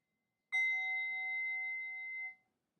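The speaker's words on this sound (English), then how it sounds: "when I ring the bell, switch to a different word" A single bell stroke rings out clearly in a quiet room and sustains a bright, pure ringing tone for almost two seconds before it stops short.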